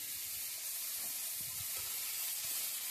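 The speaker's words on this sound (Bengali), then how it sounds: "কচুরগাঠিগুলোকে দেওয়ার পর ভালোভাবে নেড়ে চেড়ে নিচ্ছি যেন কচুরগাঠিগুলোকে একটুখানি ভেজে নেওয়া হয়ে যায়" Taro corms frying and being stirred in a pan of hot oil with spices and split green chillies, a steady close bright sizzle with faint clinks of stirring throughout.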